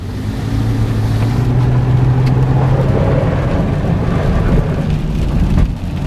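A boosted F23 Honda Accord rumbles along, then a heavy rushing wash of water builds and sprays around it for several seconds as it floors through a deep puddle, close and loud, with no talking.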